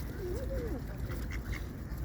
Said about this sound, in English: the ducks prefer to stay on the ground on the ice, I think.